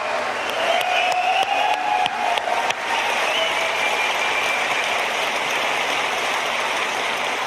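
A large audience applauds Bungie's Destiny 2 developers at a gameplay presentation, a dense, steady wash of clapping that holds for several seconds, with a few sharper claps and faint cheers and voices rising early before the sound settles into even applause.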